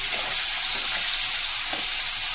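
Onions sizzling in hot oil with bay leaf for a thin curry, a steady loud frying hiss filling the whole stretch with faint stirring underneath, no voices.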